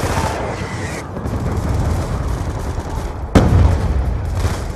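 Hellstorm missile strike in Black Ops 2 multiplayer, with steady nearby gunfire and rumbling explosions, then a sharp, heavy blast about two-thirds of the way through.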